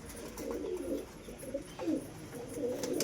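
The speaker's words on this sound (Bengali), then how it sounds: "এখানে আমার সব পায়রাগুলো পুটুর পুটুর করছে" Pigeons coo steadily inside a pigeon house, with several soft, throaty calls overlapping and swelling in repeated bursts at close range.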